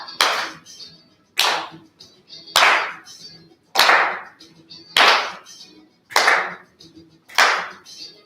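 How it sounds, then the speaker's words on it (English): Seven sharp bursts of hand clapping during a fitness class, spaced about a second apart in a steady rhythm, loud and close, with faint talk in the background. "Let's clap."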